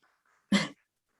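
A single short bark from a dog indoors, close and fairly loud, standing alone in an otherwise quiet room.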